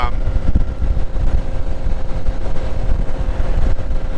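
A 2020 Harley-Davidson Street Glide motorcycle rumbles along on a ride near a lake, a steady low engine drone mixed with heavy wind buffeting on the microphone, loud and continuous.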